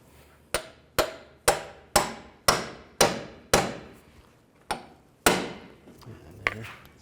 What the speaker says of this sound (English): you can either take a hammer and just hammer, tap on the top right there